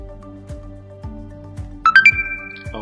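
A smartphone plays a short chiming notification for a successful payment transaction: a quick rising run of bright tones over a soft, repeating background pulse, close and clear.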